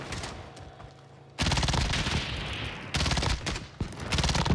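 Sustained AK-47 assault rifle fire in a first-person shooter game, loud close automatic bursts broken by a brief pause, with no talk.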